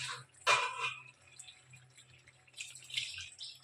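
Water poured into a pot of cooking sama rice khichuri, a burst of splashing followed by softer trickling and a second stretch of pouring, close by with no talk.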